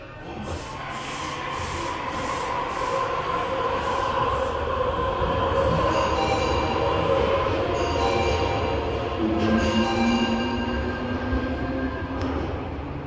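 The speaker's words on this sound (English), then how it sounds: "The 8:12 Kodama Minami train departing platform 1." An Osaka Metro train rumbles steadily as it pulls away from Taisho Station, with rising whines from the motors and brief squeals of wheels on the rails.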